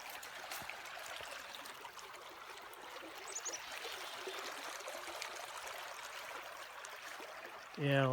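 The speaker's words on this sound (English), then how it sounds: "It's a beautiful creek." Steady broadband rush of a trout creek flowing in a state recreation park, continuous and moderately near, with a brief louder burst at the very end.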